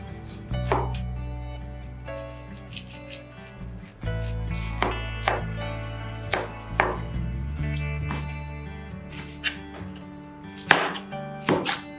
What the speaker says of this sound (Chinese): 果肉尽量剁碎一点，这样吃起来才有颗粒感。